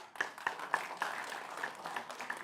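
Scattered hand claps from a small group at a mayoral candidate debate, light and uneven, rising and falling over a couple of seconds.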